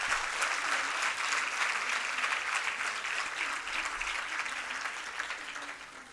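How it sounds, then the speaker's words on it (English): An audience at a Bharatanatyam arangetram applauds the students' parents and families, a dense, steady wash of clapping from many hands that carries on evenly and tapers slightly at the end. "all the parents and family members of these students deserve a big round of applause"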